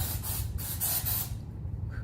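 Dry shampoo sprayed onto hair from an aerosol can, a steady close hiss in a few pulsing bursts that cuts off near the end.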